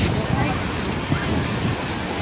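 Sea waves at Juhu beach in Mumbai wash in as a loud, continuous surf roar, heavily buffeted by wind noise on the microphone, with no clear voices.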